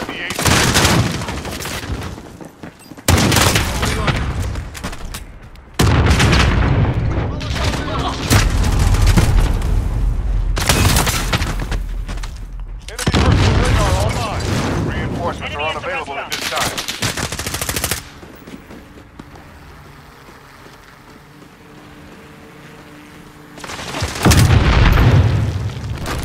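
Video game gunfire and explosions, including an Origin shotgun, come as loud sustained bursts of rapid shots and booms with short pauses between them. Game voice callouts can be heard over the shooting.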